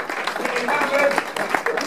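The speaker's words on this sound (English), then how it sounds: "So another round of applause for the youngsters that came." Scattered clapping from a presentation-night audience at a football club, brief and moderate, with voices over it.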